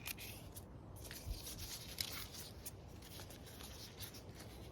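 Leaves stripped by hand off a freshly cut eucalyptus stem cutting in a garden, a continuous soft rustling and papery tearing, close and fairly quiet, with a few small crisp snaps and no talking.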